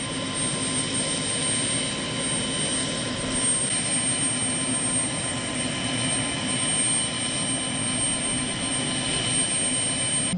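A helicopter engine roars in a constant, dense whine and rumble during a joy ride over Hyderabad, loud and unbroken from inside the cabin throughout.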